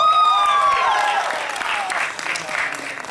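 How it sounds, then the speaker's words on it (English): An audience claps at the AnimeUSA 2017 convention opening ceremonies, the applause building beneath a fading tone at the start and then carrying on as a steady spread of clapping. "All right, big round of applause"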